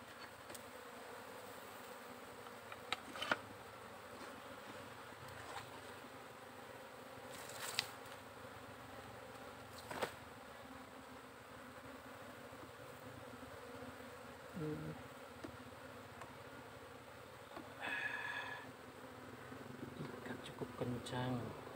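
Wild honey bees buzzing around a nest, a steady faint drone with a few louder passes close by and occasional knocks.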